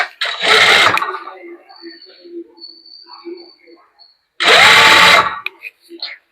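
A sewing machine stitches a collar neck in two short, loud bursts of rapid mechanical whirring, separated by quiet handling noises and a faint high whine.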